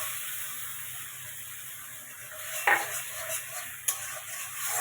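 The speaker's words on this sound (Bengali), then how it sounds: "তেল গরম হয়ে গেছে, কালো জিরে দিয়ে দিচ্ছি। এবার মশলাটাও দিয়ে দিলাম" Spice paste with nigella seeds frying in hot oil for a Bengali kajoli fish curry: a steady close sizzle with a couple of sharp spits and pops partway through, no talking.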